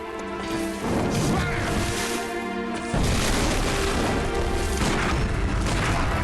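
Gunshots fired in the video game Bloodborne, two loud impacts ringing out over a dense, layered game soundtrack, with a brief pause between the bursts and a voice speaking briefly.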